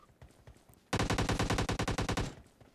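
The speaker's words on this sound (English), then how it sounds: "someone's shooting at me from up the road" Rapid automatic gunfire from a video game in a solo squads battle royale match, a loud sustained burst of about a dozen evenly spaced shots after a few quieter pops, with no talk over it.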